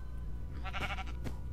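Sheep bleating in the Minecraft video game, a short wavering game bleat of about half a second over a steady background hum, followed by a brief softer sound.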